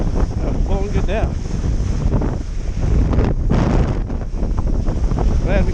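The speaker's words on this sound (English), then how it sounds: "Big gust." Strong wind gusts roar across the microphone while kitesurfing on a 12m Switchblade kite with a Duotone Spike board, loud buffeting rushes over water noise, with brief voice sounds mixed in.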